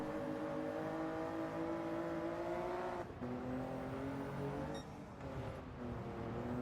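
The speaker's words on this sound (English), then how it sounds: "If I'm not revving the car correctly, I wonder if I'm revving out too much" A race car engine in Gran Turismo 7 during a time trial whines steadily through the gears, with rising and falling revs and brief dips at shifts, continuous and moderately loud.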